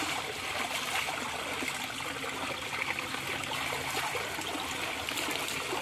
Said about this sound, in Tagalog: Yan naman rin palang tubig doon. Yung maagos.